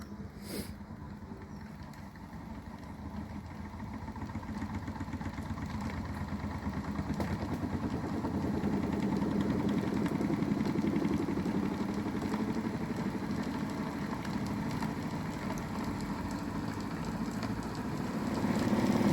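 A Newman electric motor rated around 1000 volts spins up to speed, its steady hum and rumble slowly building in loudness over about twenty seconds with faint mechanical whir.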